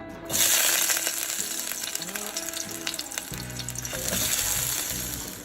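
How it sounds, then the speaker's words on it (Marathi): Potatoes dropped into hot oil burst into a loud, close sizzle that settles into a steady crackling fry with a few clinks and stirring sounds, no speech. "तेल तापल्यानंतर मी बटाटे घालते"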